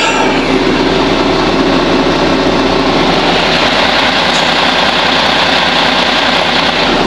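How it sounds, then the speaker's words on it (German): A tipper truck's diesel engine runs steadily while driving, a loud, continuous low rumble with broadband road and cab noise, no talking. "Ich fahre heute mal wieder Kipper."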